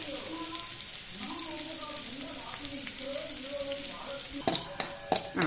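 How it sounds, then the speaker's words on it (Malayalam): Mustard seeds, onion, chili and curry leaves temper in hot coconut oil with a constant sizzle under a talking voice, then a few sharp crackles near the end. "കടുകിടുന്നു ഇതെല്ലാം കൂടി നമുക്ക് ഉള്ളി മുളക്"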